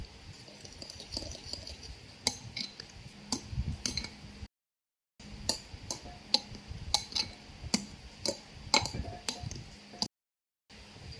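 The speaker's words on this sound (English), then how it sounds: "I will mix this mixture into the egg mixture into the whipped cream" Tiramisu egg and cheese mixture is folded into whipped cream in a bowl, producing soft irregular ticks and clicks of utensil against bowl, close and quiet, with two brief silent gaps.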